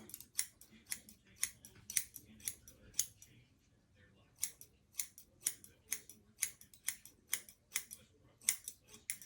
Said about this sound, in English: you need a good pair of scissors, that cuts really good